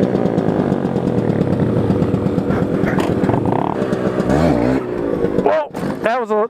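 A vehicle engine revs hard during a wheelie, a loud close buzzing drone that rises and falls in pitch, with a person shouting over it near the end.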